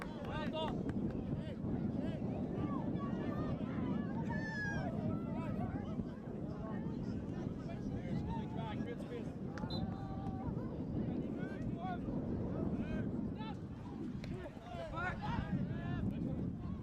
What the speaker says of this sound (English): Bit of a blustery day here at the playing fields at Lurgan Arena.